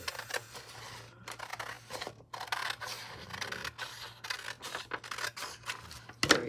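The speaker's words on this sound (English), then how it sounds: "Let me cut this off." Scissors snip through paper for an envelope in a quiet room, giving a series of short, close, crisp cuts in an irregular rhythm.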